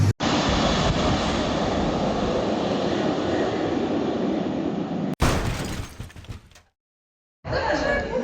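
A loud, steady rumbling roar of a train at Mount Lavinia railway station, Sri Lanka, fills most of the clip, then cuts to quieter noise and a brief silence.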